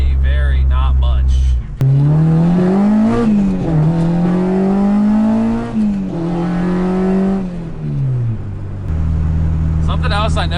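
A car fitted with a Skunk2 Megapower RR exhaust drives along, its loud, close engine drone climbing and dropping in pitch through gear changes before settling back to a steady idle-like hum.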